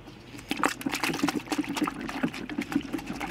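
A polishing pad is worked by hand in cleaning liquid inside a Detail Guardz pad washer, soft close sloshing and splashing in quick irregular bursts, fairly faint.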